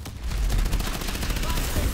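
Rapid gunfire in the video game Call of Duty Advanced Warfare, aimed at a missile, a dense continuous burst of shots with heavy low rumble throughout.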